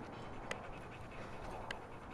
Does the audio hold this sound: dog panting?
yes